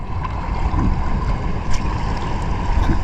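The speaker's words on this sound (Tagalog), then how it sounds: "Malakas ang alon guys. Kakatapos na kasi ng bagyo" Strong sea waves just after a typhoon wash and rumble continuously around a small fishing boat, loud and close, with a steady broadband roar and occasional splashes.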